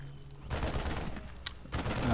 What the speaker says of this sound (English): Marines, what are the Marines shooting at?